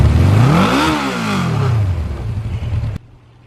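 A 1978 Suzuki GS850 full-size motorcycle engine revs up hard and close, pitch sweeping up then falling back, rising again before cutting off abruptly near the end.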